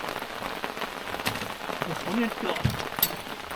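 Steady rain patters on a nearby boat roof at a reservoir in Mae Moh, Lampang, a dense hiss with scattered drops, while faint voices murmur underneath.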